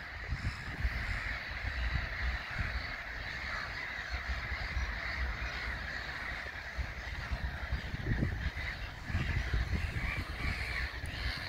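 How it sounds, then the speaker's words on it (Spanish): A noisy flock of nesting birds, crows cawing loudly among them, keeps up a dense, constant chatter at the Råsta lake nature reserve in Solna, Stockholm, heard from nearby with no talk. "Fíjate qué cantidad de aves. Y el bullicio."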